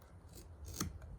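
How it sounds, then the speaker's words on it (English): A knife tip drawn across belt leather makes a soft, brief scratching stroke, quiet and close, ending in a sharper rasp near the finish. "now, with my knife, just draw that mark"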